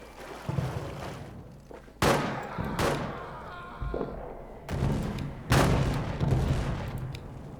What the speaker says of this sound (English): I'm trying to do suppressing fire